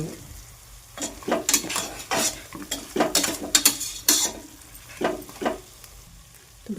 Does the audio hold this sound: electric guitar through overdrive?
no